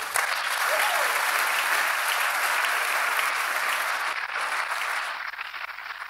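A church congregation applauds in sustained, dense clapping that holds steady for several seconds, then thins slightly toward the end.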